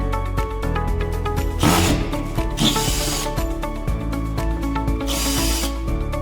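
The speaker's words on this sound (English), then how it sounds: "Remove the power box. Remove these 10 screws." A power tool removes screws from the power box of an MX500 rental LED screen, giving dense, rapid clicking and rattling with two louder whirring bursts over a busy mechanical background.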